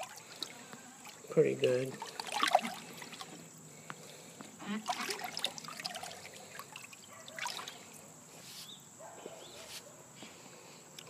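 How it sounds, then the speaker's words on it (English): Nutrient mix being stirred into water for a Kratky hydroponic lettuce setup, soft intermittent swishing and trickling with a few small clinks, close and faint, with someone speaking briefly. "what I'm going to do is throw that in, and I'm going to stir that up"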